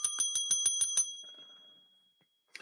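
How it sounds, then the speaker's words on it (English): A bicycle bell rings rapidly about seven times in a bright, metallic run, then fades to quiet before one more short ring. "You hear the bell ring, yeah. You hear that?"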